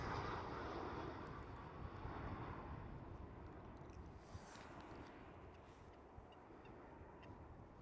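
A KLM Cityhopper Embraer E190 arrives at runway 06 at Amsterdam Schiphol, its jet engines a steady, fairly distant roar with some wind rumble that slowly fades.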